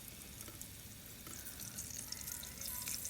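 Half a kilo of green beans frying in a small amount of oil gives a steady, close sizzle with faint crackles, with no voice over it.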